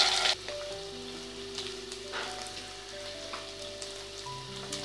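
Garlic paste and onion paste sizzle steadily in hot oil for an egg biryani, a continuous close frying hiss with a loud splattering burst at the start as the paste hits the pan, then occasional crackles.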